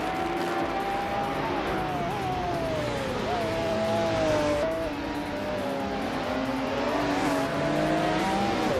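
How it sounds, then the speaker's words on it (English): Race car engine of a classic 1994 Nissan 300ZX Turbo IMSA in a racing video game, a continuous high droning whine that rises and dips with gear changes and brief throttle lifts, loud and steady with no pauses. "Driving a classic 1994 Nissan 300ZX Turbo IMSA."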